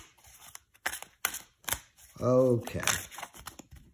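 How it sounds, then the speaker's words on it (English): Tarot cards are shuffled in several quick papery riffles and taps, with a person speaking briefly between them. "Maybe a couple more shuffles."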